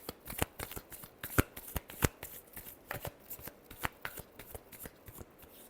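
Tarot cards shuffled by hand in a steady run of crisp riffling flicks and soft slaps, close and fairly loud, with no talking.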